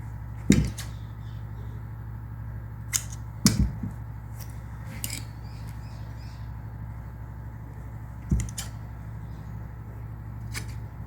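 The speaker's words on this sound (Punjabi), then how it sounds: "ਹੁਣ ਇਹ ਚੱਕਣ ਤੋਂ ਪਹਿਲਾਂ ਕੱਪੜਾ ਇੱਥੇ ਬਰੀਕ ਜੇ ਕੱਟ ਲਗਾਉਣੇ ਆ ਇਸ ਤਰ੍ਹਾਂ" Scissors making small snips in cloth while cutting a frock body, a few sharp isolated clicks spaced seconds apart over a quiet steady hum.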